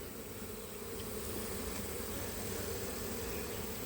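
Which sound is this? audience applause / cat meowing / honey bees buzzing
honey bees buzzing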